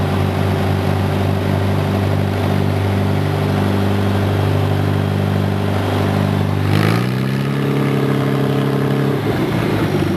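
A small engine runs loudly at a steady high throttle, then its pitch shifts upward partway through and holds there with a strong harmonic drone, close and alone.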